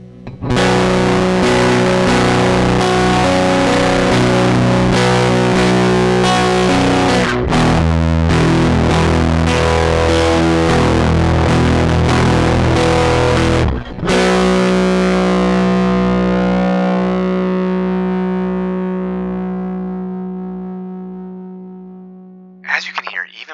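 Electric guitar through a Polarbear Drowner Silicon Fuzz pedal, a thick, loud, noisy distorted wash of crunchy, harmonic chords that sustain and slowly decay, heard alone.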